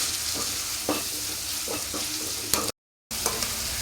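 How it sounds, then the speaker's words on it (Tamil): Chopped onions sauté in a pan over a medium flame for kothu porotta, a steady close sizzle with occasional scraping stirs and one brief cut to silence near the end. "மீடியம் ஃப்ளேமில் வச்சுக்கோங்க. ஏன்னா அப்போ தான் அது நல்லா வெங்காயம் வதங்கி டேஸ்ட்டாக வரும்."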